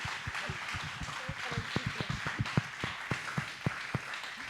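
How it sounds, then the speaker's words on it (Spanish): Audience applause at an evening book-presentation event, a steady patter of scattered hand claps of moderate loudness with some louder individual claps standing out, continuing throughout. "Les pido un aplauso una vez más."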